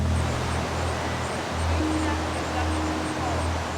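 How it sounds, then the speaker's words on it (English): Big waterfalls at Haystack and Dutchman Falls in Pennsylvania, heard as a steady, loud broadband roar of rushing water filling the whole clip, with a low hum underneath. "we hear some big waterfalls"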